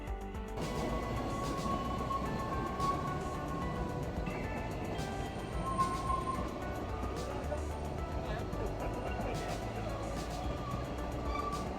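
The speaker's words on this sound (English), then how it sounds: "the first train of the new season passed by to great fanfare" A heritage railway train rumbles past steadily in Wales, with wheels rattling on the single-track rails and faint metallic squeals, while people talk quietly in the background.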